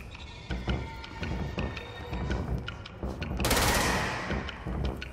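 Gunfire in the Control game, rapid repeated shots in quick bursts with a louder blast partway through, close and fairly loud against the surrounding combat din.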